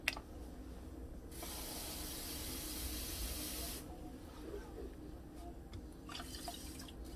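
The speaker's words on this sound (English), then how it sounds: "I'm going to put a little bit more water." Water is poured into a pot of jasmine rice, a steady hiss of running liquid for a couple of seconds, then a shorter splash and drips, soft and close.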